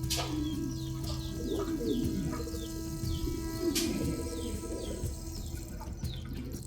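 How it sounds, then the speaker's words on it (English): Soft, low cooing of an American Giant Show Homer pigeon on a fancy pigeon farm repeats over a steady background hum, with faint chirps from other birds now and then. "this American Giant Show Homer Pigeon has added brightness to Ratul's farm."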